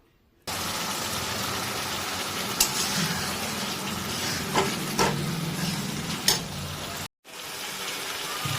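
Ginger-chili paste with a splash of water frying on a high flame for mutton keema, a loud, continuous roaring sizzle with a few sharp ticks, broken by a brief silent gap.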